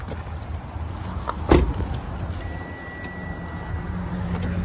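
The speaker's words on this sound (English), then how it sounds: "it's the car telling us we took the key out the car while it's still running" A thin, steady electronic key-out warning tone sounds inside a 2012 Kia Optima SX T-GDI over low engine idle, following a brief thump near the start.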